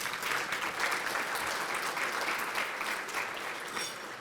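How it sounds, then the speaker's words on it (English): An audience at a school academic excellence banquet applauds, a steady wash of clapping from many hands at moderate distance that holds for several seconds before easing slightly. "Let's give Kenneth another round of applause."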